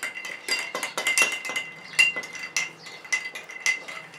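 Ice cubes clinking against a glass as gur (jaggery) sharbat with lemon is stirred, a run of bright, quick taps and rattles close by, irregular and fairly soft, with no voices.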